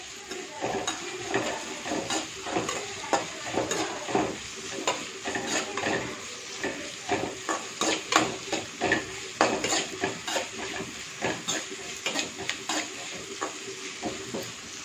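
Vegetables sauté in a pan for a South Indian lunch, with a constant soft sizzle under repeated scraping and clinking strokes of a spoon stirring against the metal, close and fairly quiet.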